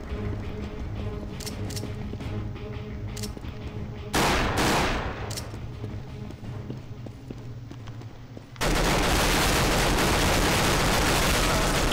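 Counter-Strike: Global Offensive gameplay with a run of rapid gunshots and bursts of fire, followed by a loud, sustained noisy stretch near the end, and no voices over it.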